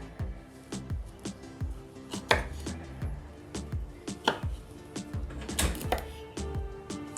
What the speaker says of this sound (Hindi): अब आखिर में हम ब्रोकली काटेंगे।